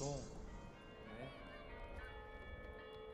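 Bells ring with long overlapping tones that slowly fade, heard at a distance against a quiet city background.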